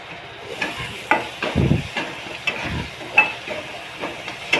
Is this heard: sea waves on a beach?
no